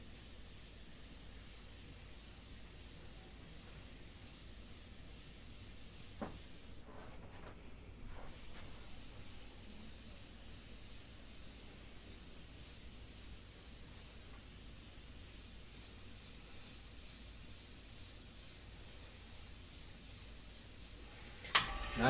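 An airbrush sprays India ink in a close, continuous hiss that runs almost without a break, with one short pause partway through and a faint click near the end.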